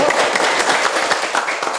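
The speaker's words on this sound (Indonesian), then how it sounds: "Kita berikan tepuk tangan dulu" An audience claps steadily for panel speakers at a public discussion on enforcing Yogyakarta regional regulations, a dense, even patter of many hands filling the room with no talk over it.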